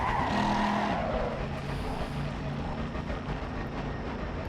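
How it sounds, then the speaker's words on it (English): An engine revving and pulling away in Assetto Corsa Competizione, a race car whose rising tone fades into a steady loud drone with some tire noise. "let's give it some gas and let's get out of it"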